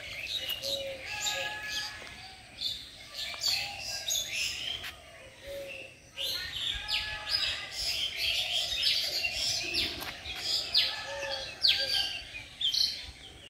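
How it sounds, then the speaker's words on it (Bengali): Birds chirp and call all around a shaded village area in Tangail, Bangladesh, with steady overlapping tweets and brief calls from several directions at moderate loudness, against light background noise. "আর চারদিকে পাখি ডাকতেছে খুব সুন্দর।"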